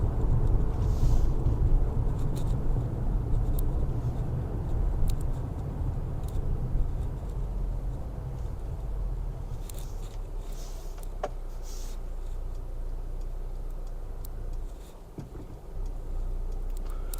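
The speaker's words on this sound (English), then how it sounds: "Once you step on the pedal, quick shifts just to get to your higher gears right now" Steady, muffled engine and road drone inside a Mercedes GLA 250 compact SUV as it accelerates through quick gear shifts, with faint ticks and clicks over a continuous low rumble.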